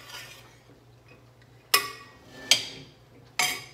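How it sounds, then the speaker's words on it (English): A spoon scrapes and clinks against a pot or bowl while rice is mixed with salt for a shrimp and rice dish, three sharp metallic taps ringing out close and clear over quiet kitchen background. "now I'm going to mix up my rice with my salt"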